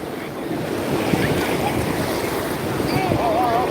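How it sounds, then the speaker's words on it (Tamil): Waves break and wash over rocks at Tiruchendur beach at sunrise, a steady close rushing surf with wind noise on the microphone and faint voices in the background. "எதிர்பார்க்கல இந்த அலைய"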